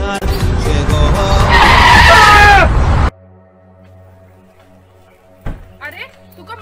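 A car skids to a stop with a loud, harsh tire squeal lasting about three seconds, then cuts off abruptly into quiet, followed by brief faint sounds.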